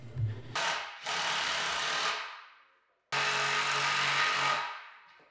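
Power drills drive long lag bolts into wood while a rebar and wood stair handrail is assembled; two loud, sustained whirring bursts of about two seconds each, separated by a brief pause, with no talking.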